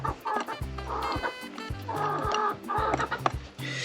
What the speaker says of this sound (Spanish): No, las gallinas que se vayan a dormir ya.